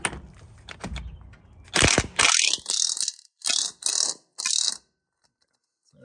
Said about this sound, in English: Make sure you use a 6-point socket.